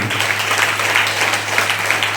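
A crowd applauds steadily, many hands clapping together in a dense, continuous patter that holds at an even loudness throughout.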